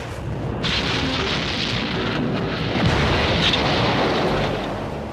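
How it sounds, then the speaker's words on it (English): A heavy, booming blast rolls into a loud, sustained rumbling roar that lasts several seconds. "All of a sudden, this tremendous explosion and a sheet of fire just shot skyward."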